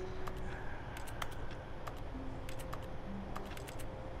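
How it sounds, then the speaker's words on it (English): Office keyboard typing in the video game The Stanley Parable comes as quiet, irregular clusters of key clicks over a steady hiss, with faint tones now and then and no speech. "It always sounds like you're typing,"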